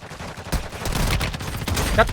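Bursts of rapid gunfire in the mobile game Warzone Mobile crackle in quick succession over a dull background during a firefight, with a louder shot near the end.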